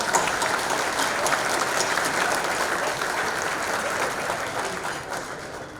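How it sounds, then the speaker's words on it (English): Steady, dense applause from a large crowd, sustained throughout and tapering slightly at the end. "I want a very bold clap for them"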